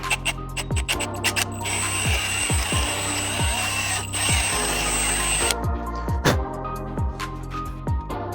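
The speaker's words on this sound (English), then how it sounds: "I might have to drill the head off this bolt" A power drill boring out the head of a stuck bolt during CR250 motorcycle brake work in a shop. It runs in a sustained high whine through the middle, with short trigger bursts and rattling clicks before and after.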